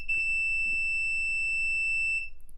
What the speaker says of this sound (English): We get that buzzer sound which indicates that we have been successful